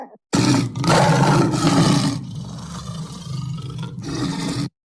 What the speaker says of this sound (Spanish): El león, aún más enfurecido,